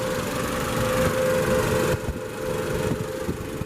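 A 2016 Chrysler 200C's 2.4-liter MultiAir four-cylinder engine idles with a steady low hum and faint vibration, holding an even pitch throughout with a slight shift partway through.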